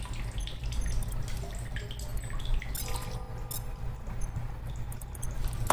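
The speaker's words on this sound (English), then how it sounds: "Let's fill up that water bottle." Running water filling a water bottle in The Solus Project, a steady trickling and dripping flow over a low ambient hum.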